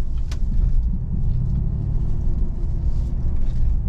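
A 2021 Chevrolet Silverado 1500 rolls into a parking area, its engine a low, steady rumble heard from inside the cab, with no talking.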